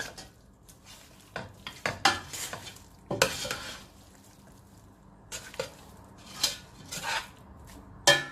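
Chicken roast being tossed with curry leaves in a pan, soft frying sizzle under irregular spoon scrapes and metallic clinks against the pan, quiet and close.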